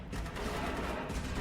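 Dense, continuous gunfire in the video game Rogue Warrior, a rapid rattling fusillade of overlapping shots filling the whole moment, loud and close with no talking.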